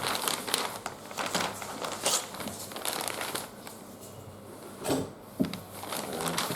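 Fabric being cut for a men's knee-length knife-pleat kurta, close crinkling and rustling of cloth with short snipping and handling noises in irregular bursts, a louder rustle near the end, no voices.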